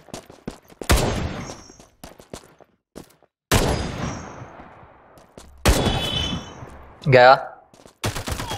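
Loud gunfire in the battle game Farlight 84 comes from a sniper rifle and other weapons, fired as several separate sharp shots and short bursts spaced apart, with a voice speaking briefly between them.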